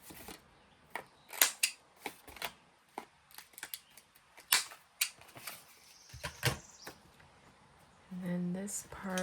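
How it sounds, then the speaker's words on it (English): Small, quick scissor snips trim a piece off a paper scrap up close, a scattered run of light clicks and cuts with a brief rustle near the end. "Just have to trim off a little piece here."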